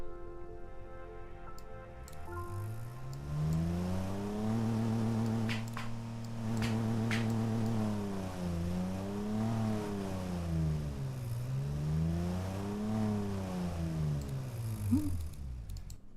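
A 1970s car engine in the Automation game idles with a low steady hum, then revs up and down in repeated smooth sweeps, the pitch rising and falling in even waves.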